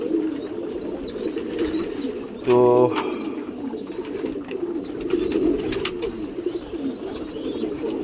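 Pigeons coo in soft repeated low calls on a waterlogged rooftop loft, with a steady murmur of birds, a brief louder harmonic call near the middle and a short spoken word.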